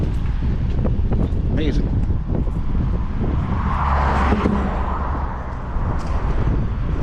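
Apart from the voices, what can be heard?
wind on a walk across Pie-IX bridge, Montreal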